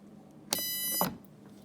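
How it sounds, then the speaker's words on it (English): A single sustained electronic beep lasting about half a second, sharp and tonal, from a voltmeter's low-voltage alarm on a 24V electric ride-on, with quiet background before and after. "it'll start making that beep noise you heard"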